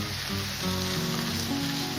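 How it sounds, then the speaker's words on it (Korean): Steady sizzling from chicken stir-frying in a hot pan without added oil, a continuous crackling hiss with no talking. "불 켜시고 자 이제부터 잘 볶아줍니다"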